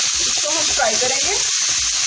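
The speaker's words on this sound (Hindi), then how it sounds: "इसको हम फ्राई करेंगे।" Keema (minced meat) frying in a pan, making a continuous loud, close bright sizzle with faint stirring movements underneath.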